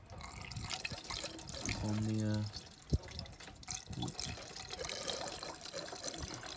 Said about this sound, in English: Now I'm going to fill up the water, and I'm going to see if my piping's alright